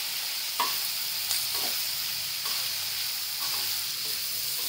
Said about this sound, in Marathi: नरम करून घ्यायचं, चांगलं भाजून घ्यायचं मसाला